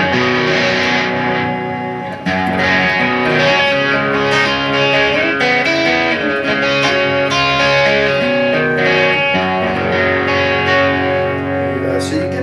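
A Music Man Axis electric guitar plays on a distorted tone, its volume knob rolled down so it edges toward clean, with sustained chords and notes ringing loud and close.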